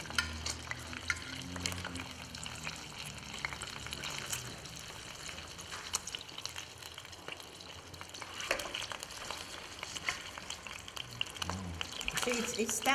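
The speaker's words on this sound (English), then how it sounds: "We're frying the potatoes now." Boiled potatoes fry in a pan with a steady, crackling sizzle and occasional scraping stirs, continuous throughout and fairly close.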